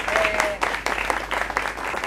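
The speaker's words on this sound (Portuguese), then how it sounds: "Eu queria pedir uma salva de palmas para todos os voluntários" A crowd gives a round of applause for the volunteers, university students, on a guided heritage walk in Belém; the clapping is moderately loud and continuous, with a brief tonal whistle early on.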